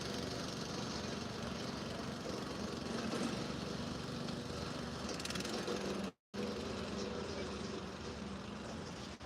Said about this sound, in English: Somebody just started a tractor for some reason over there.